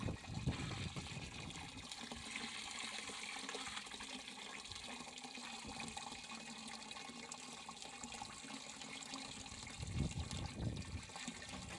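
Water being mixed with copper sulphate in a tank for agricultural use, heard as a faint, continuous sloshing and trickling of liquid with slight swells, no voices over it.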